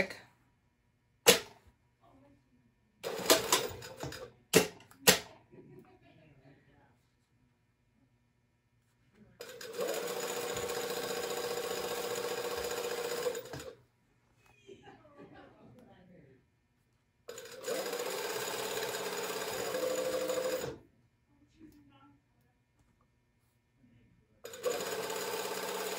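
A sewing machine bastes a collar from edge to edge at a quarter to three-eighths inch seam, running in two steady bursts of about four seconds each, close and fairly loud, with brief clicks and handling noises between.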